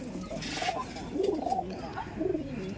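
Giribaj pigeons coo close by in a few repeated throaty, rolling phrases, steady and moderately loud, with faint background noise.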